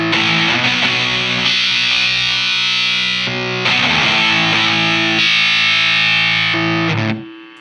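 Electric guitar run through a Beetronics Abelha fuzz pedal rings out in thick, buzzing fuzzed chords, several long sustained strums one after another, loud and close before cutting off sharply at the end.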